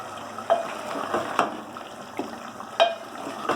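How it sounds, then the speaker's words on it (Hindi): Minced keema fries in a pan with a continuous sizzle while a spoon stirs it, giving periodic louder scrapes and knocks, close and clear. "अब मैं इसे खूब अच्छी तरीके से भूनूंगी"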